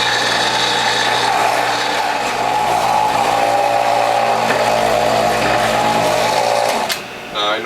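A WHF premium juicer's motor runs steadily with a loud, continuous mechanical whir and hum as it presses red Swiss chard greens. Near the end the sound changes and drops briefly.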